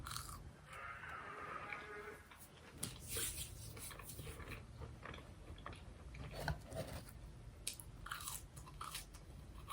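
Crunchy fries bitten and chewed close to the mic, a steady run of crisp crunches and mouth sounds with no talking.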